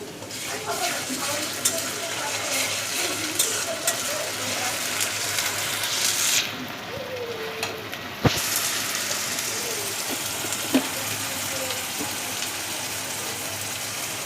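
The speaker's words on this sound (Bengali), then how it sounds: "এখন আমি আদা রসুন বাটা দিয়ে দেবো, পেস্ট" Ginger garlic paste frying in a hot pan gives a steady, close sizzle with stirring scrapes, a sharp metallic clink midway and a few lighter knocks.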